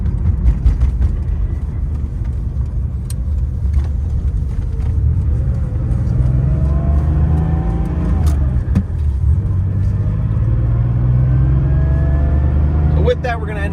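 A 1984 Porsche 911 Carrera Targa on the road, its engine a steady low rumble with rising and falling revs through gear changes, droning continuously under cabin noise.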